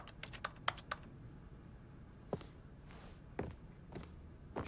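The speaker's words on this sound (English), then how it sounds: "Why am I typing in the middle of nowhere?" Rapid bursts of keyboard typing from The Stanley Parable, a quick cluster of keystrokes followed by a few sparse, soft taps with pauses between them, with no talking.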